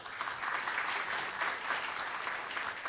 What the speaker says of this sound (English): Round of applause for President Keyes